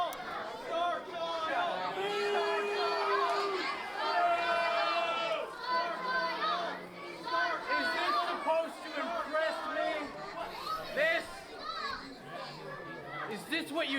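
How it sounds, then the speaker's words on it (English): A crowd at a professional wrestling show keeps up a lively mixed hubbub of chatter, shouts and children's voices for the full fourteen seconds, without any single clear cheer. "A mixed reaction from the crowd."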